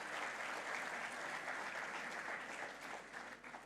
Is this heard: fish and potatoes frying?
no